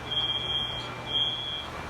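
A college dormitory fire alarm sounds with two shrill, piercing electronic tones, the first longer than the second, over steady low background hum.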